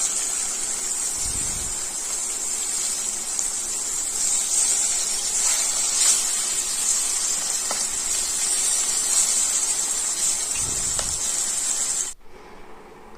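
Six turmeric-coated pomfret fish fry in hot oil in a wok, giving a continuous near sizzle and hiss that holds steady and then cuts off abruptly near the end; no voices.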